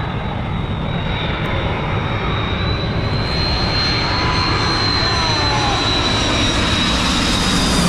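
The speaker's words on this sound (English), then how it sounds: "You're about to see the landing of the iconic flight from KLM." A KLM jet airliner roars steadily overhead while landing low at Maho Beach, Sint Maarten, a loud continuous rushing engine drone with a high whine, no voices.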